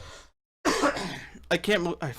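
A single cough from a podcast host during a live recording, heard close up after a brief silence, followed by speech.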